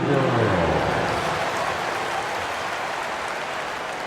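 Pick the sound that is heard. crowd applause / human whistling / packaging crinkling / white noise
crowd applause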